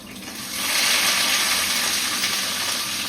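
Fish frying in a pan in a home kitchen, a steady broadband sizzle swelling up after a half-second and holding loud and close, with no talking over it.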